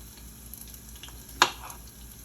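Garlic frying in a pan for broccoli salad, a faint, quiet sizzle with one sharp clink of a utensil against the pan partway through, close and without speech.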